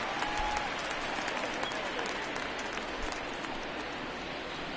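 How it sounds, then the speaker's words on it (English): Baseball stadium crowd in the video game MLB The Show 19, a dense, continuous roar of cheering and applause that stays loud and even throughout, with no clear talk. "Crowd is antsy at the moment, and you can't blame them."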